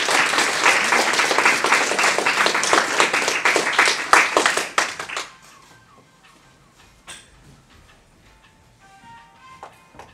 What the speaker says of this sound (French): vous pouvez les applaudir très fort